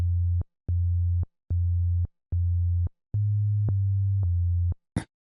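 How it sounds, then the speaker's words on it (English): Sub-bass sine tones from an NI FM8 synthesizer play a steady rhythmic pattern of sustained low notes separated by short gaps, loud and clean, ending with a brief noisy click. "sine wave sub-bass thing"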